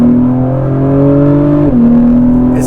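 A 2022 Acura TLX Type S in Sport Plus accelerates from inside the cabin, its engine droning loud and steady with a rising pitch, then a brief dip at a gear change before climbing again.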